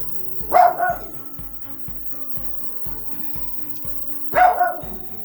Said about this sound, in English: And the dog is driving me batty.